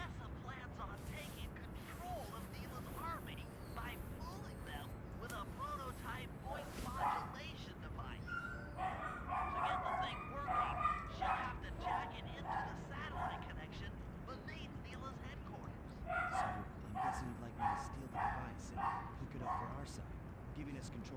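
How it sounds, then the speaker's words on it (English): A pet dog barks, yips and whimpers in excited bursts indoors, running beneath steady game music and talking throughout, with denser yapping in the middle and near the end. "And my dog's going crazy."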